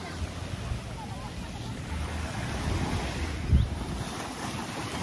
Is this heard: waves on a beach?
yes